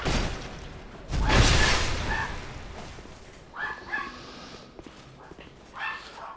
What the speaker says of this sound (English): Hear my dog in the background there.